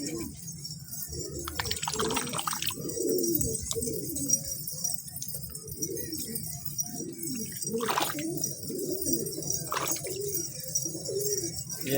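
A flock of domestic pigeons coos in soft, repeated throaty phrases, close by and overlapping, with occasional clinks and rustles and no talk.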